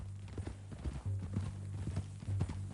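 Horse hooves clip-clop in a steady walking rhythm in the Red Dead Redemption 2 video game, close and moderately loud over a low hum, with a faint snort.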